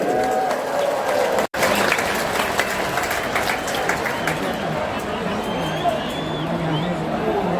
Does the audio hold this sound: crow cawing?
no